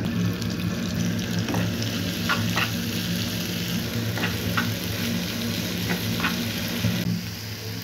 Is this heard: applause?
no